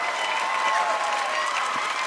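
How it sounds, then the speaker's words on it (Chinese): Audience clapping at a televised band competition, a dense, even burst of applause from a crowd, with a faint voice underneath. "那我们再次热烈掌声"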